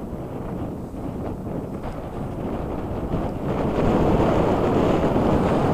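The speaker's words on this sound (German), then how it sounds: "Ist windig, ne?" Wind rushes across the open top of a hill, a loud, continuous roar buffeting the microphone that grows stronger toward the end, with no one speaking.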